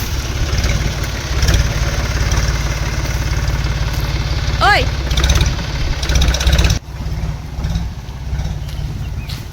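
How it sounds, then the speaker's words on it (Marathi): Tractor engine idling in a village orchard setting, a steady low mechanical rumble running throughout before spraying the orchard, with a brief voice call over it and a short dip near the end. "बागेत औषध मारायला निघालं ट्रॅक्टर घेऊन."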